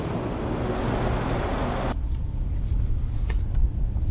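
A 2015 Mercedes-AMG S63 4Matic with a 5.5-liter twin-turbo V8 rolls along a road, a steady low rumble of engine and tire noise that grows quieter and duller partway through.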